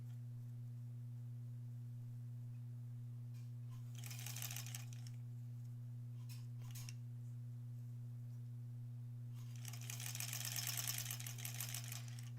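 A home sewing machine stitches a quilt block in two short bursts of rapid, whirring stitching, separated by quiet pauses over a constant low electrical hum.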